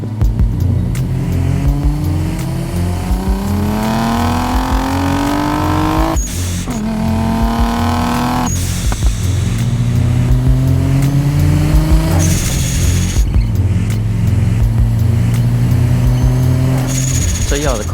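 A hand-built twin-turbo Nissan 300ZX making 600 hp revs and drives hard, its engine note climbing through the gears with several sharp breaks at each shift, loud and close throughout.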